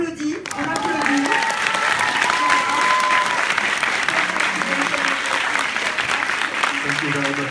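An audience applauds actor Reda Kateb at a Paris film Q&A for Lost River, a dense, loud, sustained clapping that fills the room for the whole stretch, with voices faintly mixed in.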